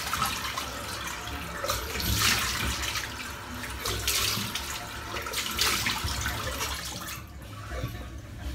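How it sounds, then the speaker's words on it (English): Cold water runs and splashes from a bathroom tap while someone rinses a freshly shaved face, a steady close rush of water with louder surges of splashing. "Nice cold water splash now."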